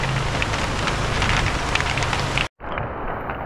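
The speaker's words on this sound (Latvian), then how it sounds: "Un tagad mums sāk gāzt lietus." Heavy rain pouring down outdoors near the Costa Rica border, a dense, loud, steady hiss of drops beating on surfaces that cuts out sharply for a moment before the downpour resumes.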